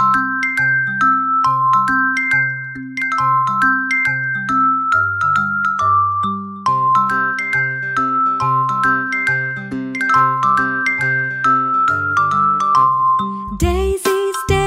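Bright bell tones chime out a lively tune over a steady bell-like accompaniment, ending in a short noisy burst.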